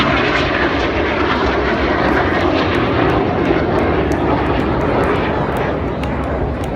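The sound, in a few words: RAF Red Arrows jet aircraft flying in display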